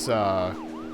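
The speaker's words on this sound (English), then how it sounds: "if you do turn on a siren" Police car siren in the video game Deadly Premonition, a loud harmonic wail that holds steady and then sweeps up and down, heard alone for about a second.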